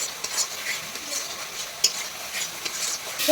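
Raw spice paste fries in oil for a fig curry and is stirred steadily, with a soft continuous sizzle and repeated scraping strokes of the spoon against the pan, close up.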